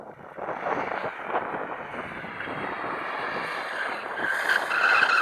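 A BMW M2 Competition drifting, tyres skidding in one broad, continuous rush of noise that grows louder toward the end, with wind buffeting the microphone and no talk.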